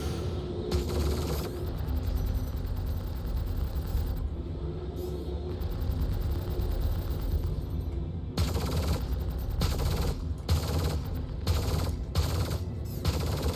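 Rapid bursts of automatic gunfire from a Star Citizen space dogfight involving an Avenger Stalker, cracking in repeated volleys with brief pauses between them over a steady mechanical drone, with a dense stretch of closely spaced shots near the end.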